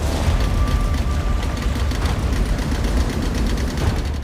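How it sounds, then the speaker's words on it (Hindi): A boat engine drones loudly and steadily on open water near Nalgonda, Telangana, a continuous close rumble with no voices over it. "इंजन की आवाज के अलावा कुछ सुनाई नहीं दे रहा था।"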